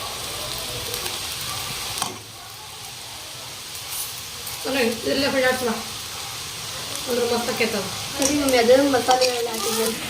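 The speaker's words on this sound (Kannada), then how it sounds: "ಎಲ್ಲ ವೆಜಿಟೇಬಲ್ ಒಳಗೆ ನೂಡಲ್ಸ್ ಹಾಂ ಮಿಕ್ಸ್ ಮಾಡ್ಕೊಂಬಿಡಿ" Noodles being stirred into frying vegetables in a pan for restaurant-style veg noodles, with a steady low sizzle and bursts of scraping and tossing, while someone talks over it.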